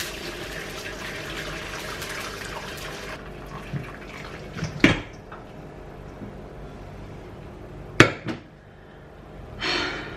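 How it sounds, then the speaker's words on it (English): Homemade chicken stock pours through a strainer in a home kitchen, a steady liquid stream running for several seconds, then softer trickles broken by a few sharp clanks of metal. "Okay, first strain done."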